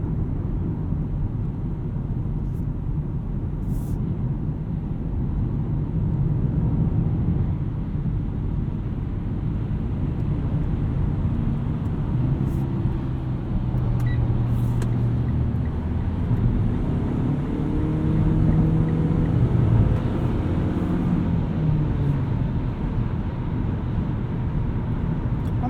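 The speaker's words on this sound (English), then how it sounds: "On the highway, road noise isn't too bad." Steady, loud cabin rumble and road drone inside a 2020 Mitsubishi Outlander Sport 2.4 GT AWD cruising on the highway, continuous throughout with no talking.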